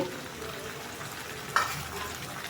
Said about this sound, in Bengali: পেঁয়াজটাকে এরকম লাল লাল করেই ভাজতে হবে বন্ধুরা।